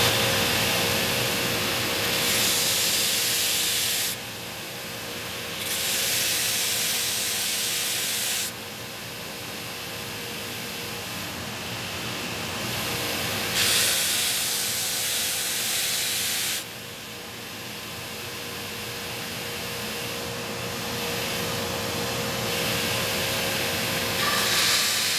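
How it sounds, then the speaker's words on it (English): A belt sander works a guitar headstock by hand, a steady loud abrasive hiss and whir that swells and eases in several long passes as the wood is pressed on and lifted off the belt. "So we'll just take it over here to the belt sander, do it by hand, and we'll be good to go."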